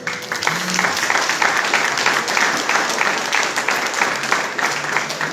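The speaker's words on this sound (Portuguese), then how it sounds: "aplauda Jesus." A church congregation applauds in a steady, dense round of clapping that stays even and fairly loud for several seconds, with a faint voice briefly audible near the start.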